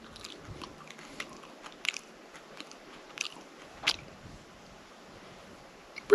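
A raw wild lanceolate plant leaf from Alaska is bitten and chewed, giving a few close, crisp crunches and wet squishes spaced irregularly against a quiet background, with no talking.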